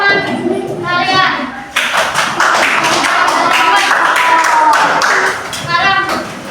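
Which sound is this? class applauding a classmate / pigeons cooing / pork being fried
class applauding a classmate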